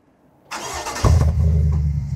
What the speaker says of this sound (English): This truck's already been running, but we did do a muffler upgrade.